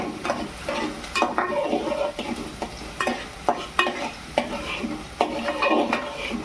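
Chopped onion frying in a pan for a karadu wild greens dish, stirred repeatedly. A steady sizzle is broken by sharp scraping strokes in an uneven rhythm, close and fairly loud, with no talking.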